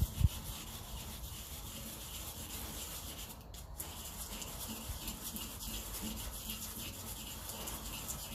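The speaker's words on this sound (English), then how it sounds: "I will go and get some sandpaper" Sandpaper rubbed steadily over a part of a Ferguson 35 TVO tractor, a continuous close scratchy scrubbing that runs the whole stretch at an even level.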